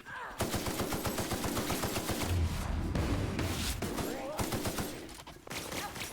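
Rapid automatic gunfire in the video game The Outer Worlds, loud and nearly continuous bursts of shots over about six seconds with dense thudding impacts and a short pause near the end.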